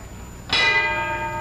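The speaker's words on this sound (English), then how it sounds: "And there's the bell." A single clang of a boxing ring bell at the 1955 Rocky Marciano versus Archie Moore fight, struck once and ringing out with a long, bright, slowly fading tone.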